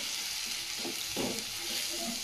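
Spice paste frying with a little water in a pan gives a steady bubbling sizzle, with soft stirring scrapes rising and falling, close and moderately loud with no talk.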